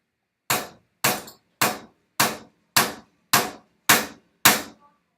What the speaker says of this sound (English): I'm going to use the hammer and I'm going to tap into the nail,